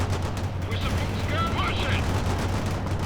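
Dense, continuous rattle of gunfire from the real-time strategy game World in Conflict, steady and loud throughout, with battle noise and voices mixed in.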